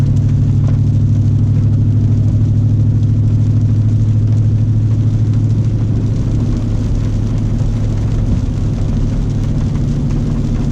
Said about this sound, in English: I was at 48 mile per hour coasting when it downshifted into 5th.